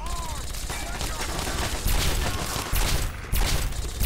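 Rapid gunfire in the post-apocalyptic shooter game Fallout 3, a dense burst of close, loud shots that keeps going throughout the clip, with voices underneath.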